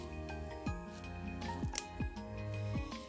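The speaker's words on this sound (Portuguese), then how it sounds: "Corta aqui com a tesoura." Scissors snip through a zipper during a craft project making a bookmark pouch, with a few sharp cuts spaced about a second apart over steady background music.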